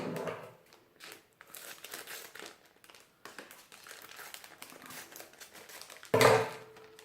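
A homemade gift parcel being cut open and unwrapped, giving near, uneven paper crinkling and rustling throughout, with a sharp, louder tearing burst close to the end.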